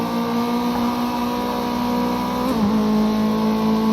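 Race car engine in Project Cars 2 at Oulton Park, holding a loud, steady high-revving drone with one brief dip and recovery near the middle; no speech.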